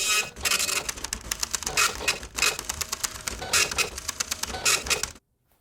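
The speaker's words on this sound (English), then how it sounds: "press the special Beyond Synth printer button, print up these cue cards" A Beyond Synth printer prints cue cards in loud, rapid, chattering bursts with brief pauses between lines, close up, stopping abruptly at the end with no talk.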